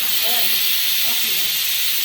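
A pressure cooker cooking ghee rice lets off a loud, continuous hissing steam whistle at close range, with faint voices underneath.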